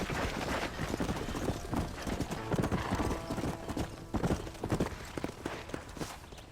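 Rapid clip-clop of horse hooves galloping at a steady pace in the video game Red Dead Redemption, loud and close, with faint voices mixed underneath.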